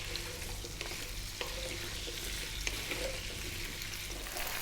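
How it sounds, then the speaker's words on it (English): Potatoes fry with cumin seeds in a pan, a faint, steady sizzle with a few light clicks of stirring, heard alone at low volume. "we're going to get our potatoes, get them in, and we're going to fry these for about 4 to 5"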